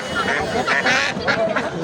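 Native and Chinese ducks at a poultry market quack in repeated harsh bursts nearby, several birds calling over each other amid crowd noise and a voice.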